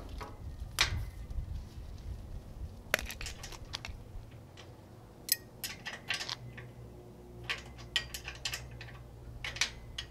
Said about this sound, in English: A couple of 9/16 wrenches should do the job, so we're gonna get these bolts out real quick.